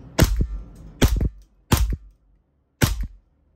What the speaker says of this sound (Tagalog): Okay, test natin. Firing.